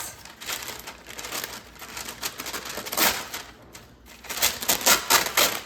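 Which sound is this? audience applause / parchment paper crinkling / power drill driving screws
parchment paper crinkling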